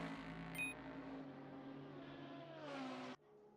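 BMW race car on the main straight in Assetto Corsa, a sustained engine drone with harmonic tones, rising in pitch as it accelerates before cutting off abruptly near the end.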